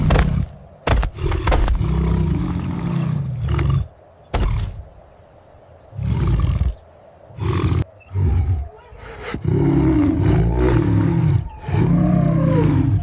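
Lions roar loudly and repeatedly in bursts while a hyena clan mobs the pride on the African savannah, deep throaty calls alternating with short pauses and grunts, close and alone without talk.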